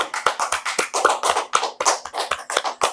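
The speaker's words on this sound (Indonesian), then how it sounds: "Boleh tepuk tangan dulu dong teman-teman." A small group claps hands in a close, talk-show style setting, giving about a dozen distinct, rhythmic, fairly loud claps in quick succession, with no other sound in between.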